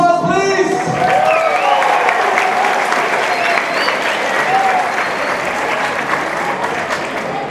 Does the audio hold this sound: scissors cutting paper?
no